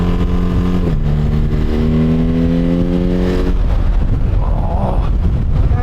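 BMW GS motorcycle with a Jekill & Hyde exhaust revving loudly up close, engine note climbing in a steady rasping rise, then dropping off into a rough, burbling overrun.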